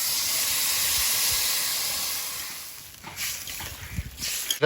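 Water poured into a hot pan of fish curry sizzles with a loud, broad hiss that holds steady, then fades and breaks into bubbling crackles and clinks toward the end.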